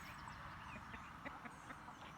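Chickens and roosters in a backyard lot give faint, scattered clucks and squawks over a steady hiss of outdoor background noise.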